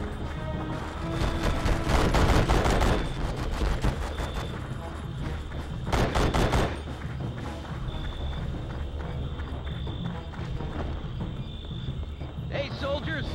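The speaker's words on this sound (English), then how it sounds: "We're under fire." Gunfire in the Vietnam War video game Conflict Vietnam, with dense rapid bursts of shots rising and falling over a busy battle soundscape, while game voices speak.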